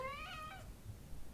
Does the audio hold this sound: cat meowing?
yes